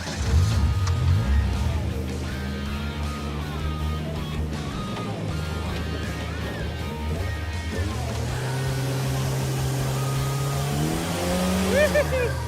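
A 1975 AMC Gremlin pulls away with its engine rumbling and revving up through the gears, loud and close from inside the car, with people talking over it.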